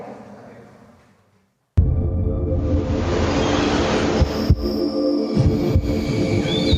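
A heartbeat sound effect for a Mexican tourism promo opens out after a brief fade to silence, a deep, loud throbbing pulse repeating under a sustained humming musical swell.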